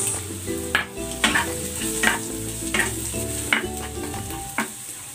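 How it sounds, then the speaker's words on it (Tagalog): Garlic and then onion sautéing in a pan for a kilawing puso pork dish, a continuous sizzle with repeated sharp scrapes of a spatula at a regular rhythm, with a faint tonal hum underneath. "Gigisa ko na tong bawang. Lagay na natin tong sibuyas."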